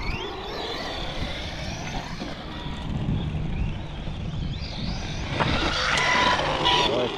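Arrma Vorteks RC car driven hard on the throttle outdoors, a steady buzzing motor whine with wind noise that swells and grows louder toward the end, with no talking.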